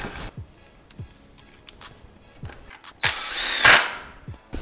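A power tool drives screws into a stack of four or five anchor plates for a plastic window install, with a few short clicks and then a loud whirring burst near the end, heard close with no talk.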